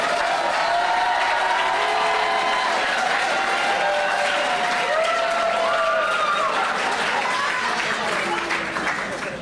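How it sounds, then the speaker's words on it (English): Audience applause at a closing ceremony, steady dense clapping from a large crowd held at full loudness throughout, with a few voices and cheers rising through it. "give them a standing round of applause"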